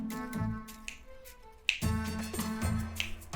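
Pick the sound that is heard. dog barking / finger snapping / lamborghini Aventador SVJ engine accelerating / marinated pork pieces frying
finger snapping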